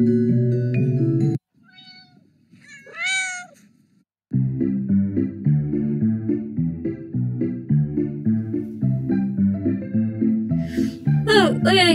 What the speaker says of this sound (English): Look at a cute, adorable kitty.